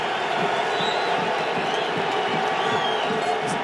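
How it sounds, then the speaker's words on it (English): Stadium crowd at a soccer match between the USA and El Salvador at the 2013 Gold Cup, a steady loud roar with cheering and whoops running throughout without a break. "Gets a reaction from the crowd."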